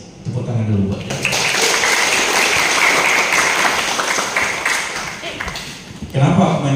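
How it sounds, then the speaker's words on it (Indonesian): Audience at a resort's augmented reality competition award announcement claps for the students, with steady applause between stretches of someone speaking at the start and end. "Tepuk tangan dulu buat kalian."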